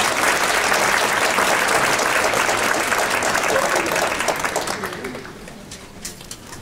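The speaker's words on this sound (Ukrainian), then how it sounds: "Ваші оплески." A theatre audience at a ballet festival gala concert applauds loudly in a dense, sustained wash of clapping that thins and fades toward the end.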